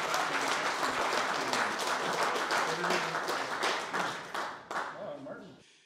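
Audience applause at an awards gala, a crowd clapping steadily with scattered sharp claps, tapering off toward the end, with voices faintly underneath.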